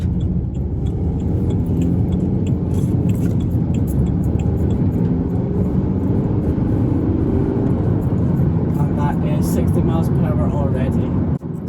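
A 2010 BMW 320d SE Touring diesel estate accelerates hard, its engine a loud, steady low drone with road rumble heard from inside the cabin, and a voice talking partway through.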